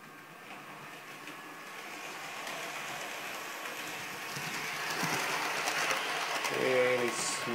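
Model train running on a layout track past a level crossing, a faint steady mechanical whir and rattle that grows slightly louder as it nears, with someone talking over it.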